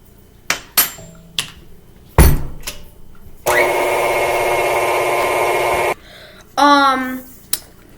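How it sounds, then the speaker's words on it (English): Electric mixer on high beating eggs for a Dominican cake, a steady, loud whir lasting a couple of seconds, preceded by scattered clinks and knocks and followed by a short rising motor whine. "Beat the eggs for 10 minutes on high"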